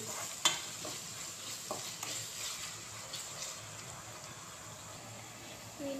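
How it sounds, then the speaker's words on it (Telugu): Onions sizzle steadily in a hot pan over a low flame, with a sharp clink of a utensil and occasional stirring, close and fairly quiet. "సిమ్లో బట్టి మంచిగా రంగు వచ్చే వరకు వేయించుకోవాలి"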